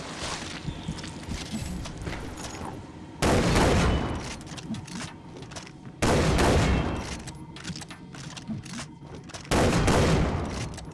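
Gunfire in the Far Cry 3 Blood Dragon video game comes in three loud, dense bursts of rapid shots, separated by quieter stretches of low rumbling game noise, with no voices.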